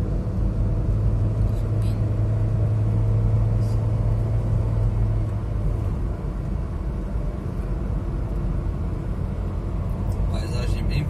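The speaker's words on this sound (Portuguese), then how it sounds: "Olha o ônibus descendo." A bus descends a mountain road on the MG-413 in Brazil, heard as a steady low engine rumble with a faint tonal hum that holds for several seconds, continuous and fairly loud throughout.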